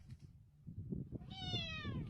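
A cat gives one clear, drawn-out meow that rises and falls, preceded by soft shuffling and low background rumble, close by and fairly quiet.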